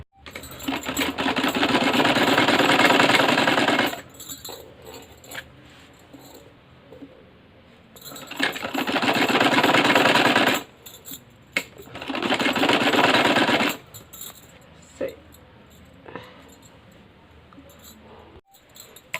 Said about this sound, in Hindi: अब यहाँ पर एक हम कच्ची सिलाई लगा लेंगे लंबी चाल से